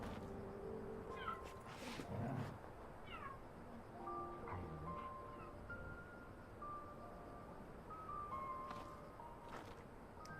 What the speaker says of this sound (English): She kinda meows at the window, even though she can't see anything.